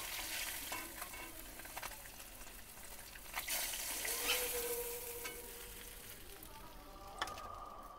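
Pieces of katla fish fry in hot oil in a pan, a steady close sizzle with occasional pops and faint scraping, quiet throughout with no voices.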